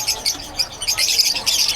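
Pet birds squawking at a busy bird market in Bocaue, a dense chorus of shrill, overlapping calls that goes on throughout, close and loud with no talk.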